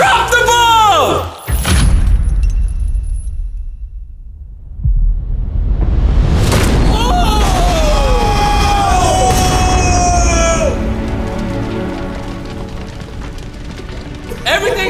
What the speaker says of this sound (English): Fire, a bomb just went off.